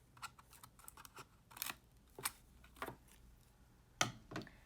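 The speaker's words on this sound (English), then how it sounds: "we are going to take our scissors and cut 2 slits on the front of the rover body about 1 inch apart" Scissors snip slits into a rover body, giving a series of crisp, close, faint cutting clicks at irregular intervals.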